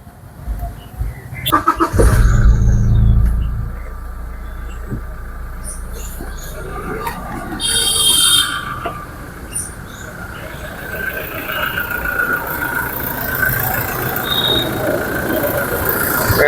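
A manual Toyota Fortuner SUV engine cranks and starts with a brief rumble, then settles into a steady idle, with insects chirping faintly in the background.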